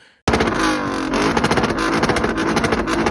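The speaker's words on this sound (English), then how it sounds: "The V8 has an amazing soundtrack, especially when you bounce it off the rev limiter." Lexus IS F with a 5-liter V8 revving hard against its rev limiter: a sudden loud roar that holds high, then stutters in rapid pulses as the limiter cuts in.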